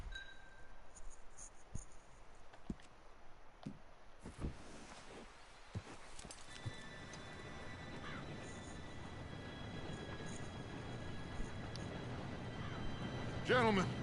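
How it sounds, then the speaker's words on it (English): A train approaching in the video game Red Dead Redemption 2: quiet ambience with a few scattered knocks gives way to a low rumble that grows steadily louder and nearer, with faint metallic tones. "Train should be here any minute now."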